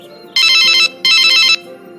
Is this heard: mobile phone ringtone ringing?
yes